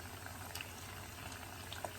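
Homemade French fries frying in hot oil, a dense, steady bubbling sizzle that runs evenly throughout at low level, with a few faint pops and no voices.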